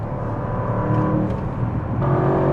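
A 2025 Audi RS7 Performance engine under throttle, a steady, muffled rumbling drone that swells slightly in a brief rev without any talk.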